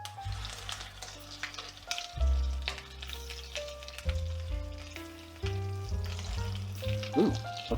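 Chicken pieces sizzle and crackle in a pan, a soft continuous frying hiss with scattered pops and occasional clinks of handling, heard close and quietly with no talking.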